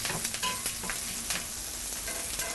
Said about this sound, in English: Hear that popping? That's the thyme popping.